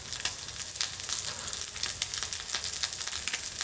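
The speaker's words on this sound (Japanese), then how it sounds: "炒めるっていうか揚げちゃって なんか上がってるね。" Crayfish sizzle and crackle in hot oil in a pan, a dense, steady frying hiss broken by frequent sharp pops and spits.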